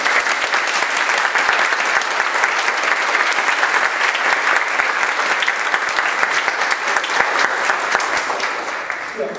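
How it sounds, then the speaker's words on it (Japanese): A concert audience at a brass band performance gives sustained, dense applause, an even wall of many hands clapping that continues steadily without pause and no talking heard. "じゃあもう一度拍手を。"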